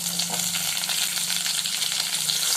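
Tomatoes sautéing in hot oil in a pan for karuvadu kuzhambu, a steady close sizzle with a low hum underneath and faint scattered ticks throughout.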